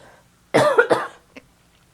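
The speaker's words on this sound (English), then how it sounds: "pardon me, I have to cough" A single short cough close to the microphone, followed by a faint brief throat sound in an otherwise quiet room.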